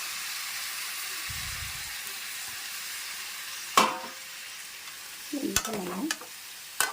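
Egg curry with masala frying in a pan, a steady loud hiss and sizzle throughout, broken by a few utensil clatters and stirring scrapes near the end; a voice speaks briefly.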